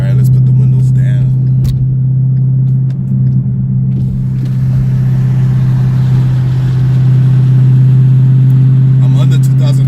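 A Mustang GT fitted with a FlowMaster Outlaw catback and Scavenger X-pipe cruises below 2,000 RPM, its exhaust giving a loud, steady low drone that rumbles continuously throughout, heard from inside the car.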